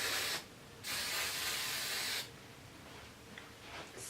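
Two short bursts of hair spray hiss from an aerosol can onto braided hair, each lasting about a second or more, close and fairly soft, with quiet pauses between.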